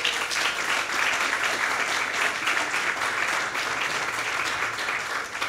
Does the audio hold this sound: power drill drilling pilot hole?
no